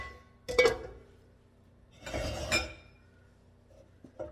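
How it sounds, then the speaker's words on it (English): Someone brings a skillet back onto the stovetop while making a cheesy shrimp and broccoli bake, giving a short metallic clunk followed by a second, longer scrape and clatter of cookware in an otherwise quiet kitchen. "I'm going to bring my skillet back."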